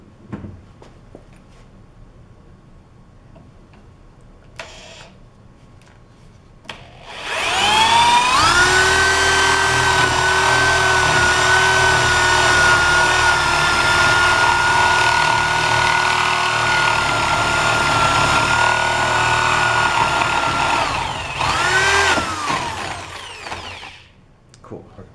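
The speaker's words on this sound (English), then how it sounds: "a 1-inch hole with the spade bit at the mark" A drill bores a 1-inch hole with a spade bit through wood for a trebuchet throwing arm, a loud steady whine rising after a brief start and holding for about fifteen seconds before winding down.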